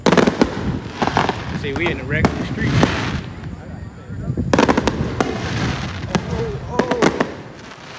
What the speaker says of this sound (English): Y'all see the fireworks and such.